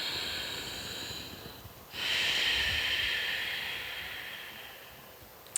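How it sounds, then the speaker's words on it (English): Ujjayi pranayama breath drawn deeply through the nose, a soft, close, hissing snore-like inhale and exhale, heard alone in a quiet room. "the breath in and out through the nose, the deep sort of like snoring sound breath"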